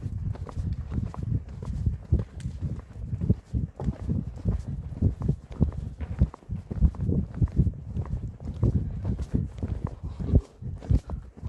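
A four-year-old Arabian horse walking, its hooves giving a steady, continuous run of soft muffled thuds on a soft surface for several seconds, close and moderately loud, with no voices.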